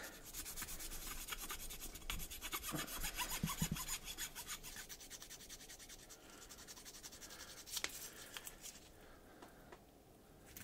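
Steady rasping strokes of a file working across a diecast model car body, continuous and close, with a few sharper scrapes midway.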